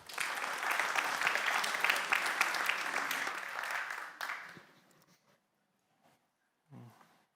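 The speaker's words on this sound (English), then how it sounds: "give him a big round of applause" Conference audience applauding a speaker at a PostgreSQL community event, a dense, loud burst of clapping for about four seconds that fades out, followed by near silence and a brief faint sound.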